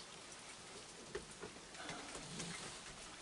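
Faint, steady rain patters outdoors with soft scattered drips and taps, heard alone without voices.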